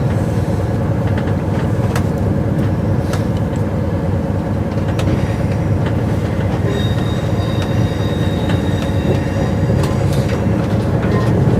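Passenger train on the Wales service, approaching from Manchester near Crewe, a loud, constant rumble of wheels on track with faint squeals and clicks throughout.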